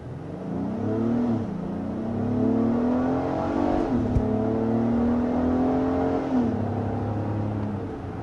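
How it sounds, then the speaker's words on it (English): A 2023 Lexus RX 350 or 2023 Acura MDX SUV engine revs up and accelerates with a raspy, meaty growl, rising in pitch through several gear changes, loud and close. "the engine makes a nice sound too. It's got a good raspy, meaty type of note to it."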